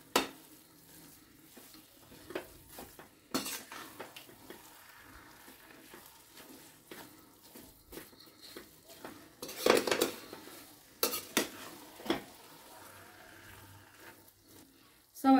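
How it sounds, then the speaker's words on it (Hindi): Suji halwa of semolina being stirred in a pan: intermittent spoon scrapes and metal clinks over a soft sizzle, with several louder knocks against the pan and quiet stretches between. "अच्छे से मिक्स करेंगे।"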